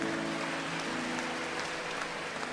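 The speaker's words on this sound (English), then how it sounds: "Let's give them another round of applause." A church congregation at an anniversary event gives a round of applause, a continuous, even wash of clapping heard somewhat distantly, with a faint sustained musical hum underneath.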